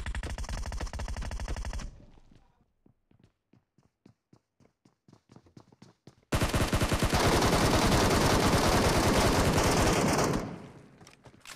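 Gunfire from a sniper and an assault rifle in the video game PUBG: a dense rapid burst, then scattered single shots and footsteps, followed by a long loud sustained barrage of automatic fire before it cuts off.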